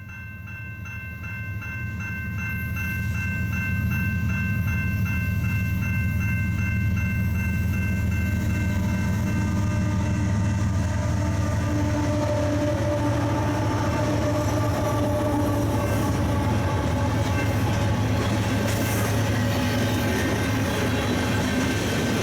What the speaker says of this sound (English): a westbound CP coal drag would stop us just a few feet short